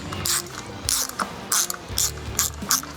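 A ratchet tightens T25 screws on a 4WD locking hub, clicking in about six short rapid bursts with pauses between them, close and clear.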